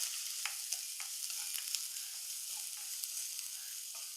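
Mustard seeds, chopped onion and green chilli fry in hot oil for a pumpkin-leaf thoran, a continuous bright sizzle dotted with small pops and crackles at irregular intervals, close and with no speech.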